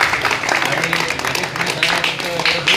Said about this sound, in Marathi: त्यांच्यासाठी जोरदार टाळ्या नक्कीच